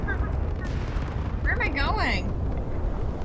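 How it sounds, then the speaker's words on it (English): Explosions and gunfire in the video game Fallout, a dense, loud rumbling barrage filling the whole stretch, with someone talking over it. "everything's exploding"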